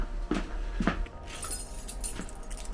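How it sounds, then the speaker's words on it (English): A bunch of keys jangles nearby in a few quick metallic clinking bursts, then fades to quieter background. "I've got to get some keys."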